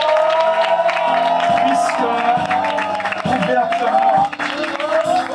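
Wedding guests applaud and cheer the newly married couple, with a burst of clapping and whoops over music in a lively hall, while a voice speaks briefly.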